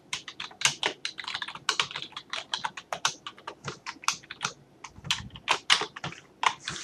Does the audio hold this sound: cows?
no